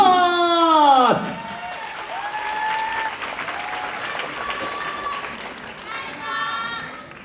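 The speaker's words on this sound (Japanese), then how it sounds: "大きな拍手をお願いします" An audience at a 2019 And-One special showcase event applauds, a steady wash of clapping and crowd noise beneath loud amplified music, with a sweeping tonal effect at the start.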